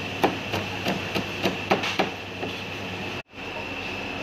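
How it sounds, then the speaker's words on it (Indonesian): Kitchen knife chopping tomato and other omelette ingredients finely on a board, a steady run of sharp, evenly spaced taps close by with no talk over them. "selepas kita potong halus begini, kita panaskan minyak"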